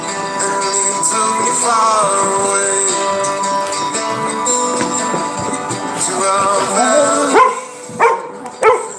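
Dogs bark and yip in a few sharp bursts toward the end, following a stretch of louder tonal sound, fairly close and loud.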